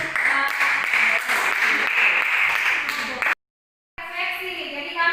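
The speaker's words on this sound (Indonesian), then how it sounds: "Silakan tepuk tangan dulu." Students in a classroom science lesson clap together for about three seconds, a dense steady patter that stops abruptly into silence before a brief tonal sound follows.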